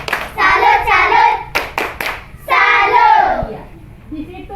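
A class claps out a rhythmic salute cheer, with bursts of clapping mixed with children's chanting voices, then a few separate sharp claps and another chanted burst, loud and close.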